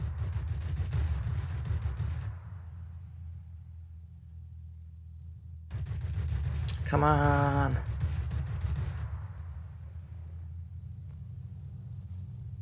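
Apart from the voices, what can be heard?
cannon fire from XF4U-6 Corsair in World of Warplanes video game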